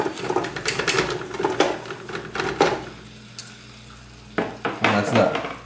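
Ground meat sizzles in a frying pan while a spatula scrapes and clanks, breaking it into smaller pieces, with close, irregular bursts of scraping over a constant hiss.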